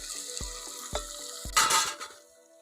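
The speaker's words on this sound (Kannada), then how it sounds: "ಈರುಳ್ಳಿ, ಸ್ವಲ್ಪ ಕೆಂಪಾಗಬೇಕು ಚೆನ್ನಾಗೆ." Onions frying in a pan for a village-style mushroom masala, a steady sizzle with a few soft stirring scrapes and a brief louder burst of hissing near the end, close up with no talking.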